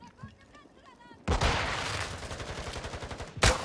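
Automatic gunfire in the shooter game Warzone 2, likely from an M13 rifle, erupts into a loud sustained burst with rapid repeated shots, then a sharp final crack, after quiet voice-like sounds at the start.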